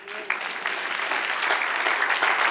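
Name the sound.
applause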